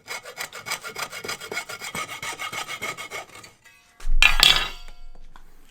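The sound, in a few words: sawing through electrical cable held in a vise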